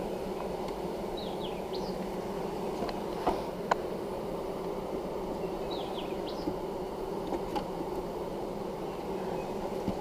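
Honeybees hum in a steady dense drone at a hive while packages are installed, close and continuous, with faint birdsong chirps and a few sharp clicks above it.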